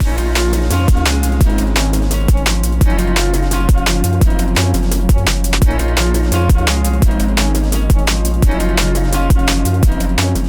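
Fast, rolling breakbeat drums with deep bass and smooth melodic layers, loud and steady throughout, an up-tempo liquid drum and bass track made in FL Studio, with no voices.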